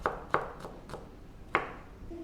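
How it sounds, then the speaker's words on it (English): A knife chopping squashed garlic cloves on a board in a kitchen making porcini mushroom tagliatelle: a handful of crisp, separate thuds at uneven intervals, close and fairly quiet, with no talking. "So this time we're going to slice it. Give them a squash, and then we get to chop them."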